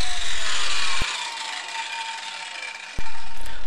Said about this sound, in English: we're just grinding away on both sides for a place for the fiberglass cloth to land